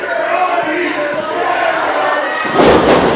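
A wrestler slamming onto the ring mat from a suplex, a heavy thud near the end over a continuous crowd roar, with commentators talking throughout.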